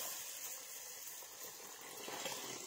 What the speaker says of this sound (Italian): Andiamo ad aggiungere la nostra acqua.